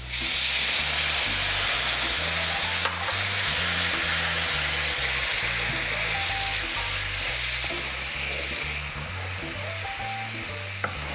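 Orange juice poured into a hot pan where salmon was just seared, bursting into a loud, steady sizzle and hiss as it is stirred and the browned bits scraped from the bottom, close and continuous throughout.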